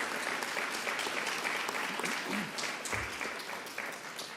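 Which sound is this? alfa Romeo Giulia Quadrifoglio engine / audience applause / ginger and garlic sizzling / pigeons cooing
audience applause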